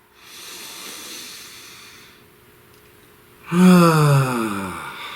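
Slow, deep breaths drawn in and let out during a calm guided pause, a soft airy inhale in the first seconds, a quieter stretch, then a louder, fuller exhale near the end.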